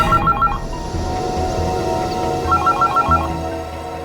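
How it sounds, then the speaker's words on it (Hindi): A phone rings in two bursts of rapid trilling tones, a short pause between them, over a low background of room noise and music. "ये किसका फोन आ गया?"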